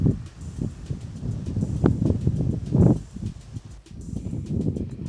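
Steady wind gusting across an open golf course near a fairway bunker, a continuous low rumble of buffeting with swells and brief rustling, no voices.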